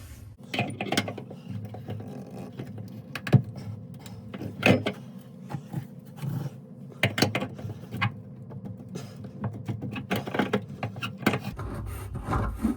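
Vice grips working a corroded bathroom sink drain nut, giving irregular metallic clicks, scrapes and creaks at close range, with scattered knocks and quiet gaps between efforts and no talking.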